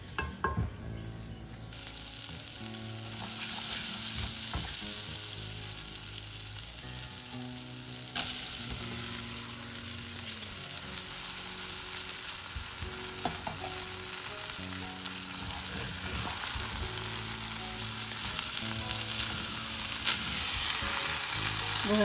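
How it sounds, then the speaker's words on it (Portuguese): Rice sautés in a pan with lard and garlic, giving a steady, bright sizzle that starts abruptly and carries on evenly throughout, up close with occasional stirring and faint background clatter. "Vou refogar aqui o arroz, um pouco de banha e alho"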